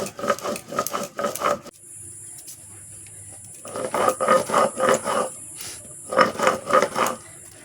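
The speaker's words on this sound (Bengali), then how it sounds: "একদম মিহি করে সরষাটা বেটে নেব" Mustard seeds are ground into a fine paste with rhythmic scraping strokes, coming in bursts of rasping rubs close by, separated by a quieter pause with a faint high background tone.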